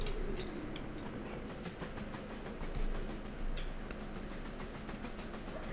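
A steam train in the railway-building game Mashinky rolls along steadily, with continuous rumble, hiss and rhythmic clickety-clack of wheels on track, no voices over it.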